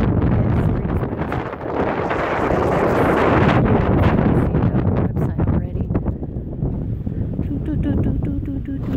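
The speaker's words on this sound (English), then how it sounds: "Now, as you can tell, it's windy." Strong wind buffets the microphone in loud, gusty rumbles that ease slightly toward the end.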